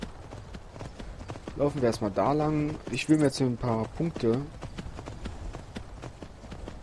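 Hooves clip-clop from a horse following the player in the video game The Elder Scrolls V: Skyrim. The steps sound close and rhythmic, and someone speaks over them.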